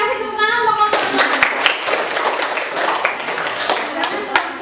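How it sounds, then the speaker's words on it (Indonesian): Students in a classroom applaud a presenting group: after a second of a voice speaking, a brisk round of hand clapping from several people runs on for a few seconds, close and fairly loud. "Kasih tepuk tangan untuk kelompok 2."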